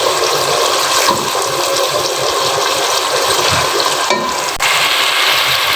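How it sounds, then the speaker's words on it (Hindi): Onion and ginger-garlic paste hit a hot pan for mutton liver masala, giving a steady, loud sizzle and hiss that runs unbroken throughout with no talking over it. "प्याज के साथ ही मैं इसमें डाल दूंगी 1 टेबल स्पून भर के जो अदरक लहसुन का पेस्ट"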